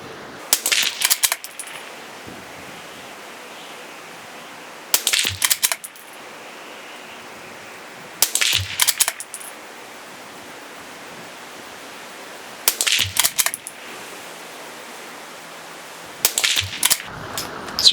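CZ 457 .22 rifle firing Eley 10X ammunition, five sharp shots spaced a few seconds apart over steady outdoor background noise.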